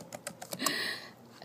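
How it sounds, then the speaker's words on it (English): Quick clicks of a computer keyboard being typed on, a few close separate taps followed by a short rattling burst, quiet with no talk. "Let me type it up."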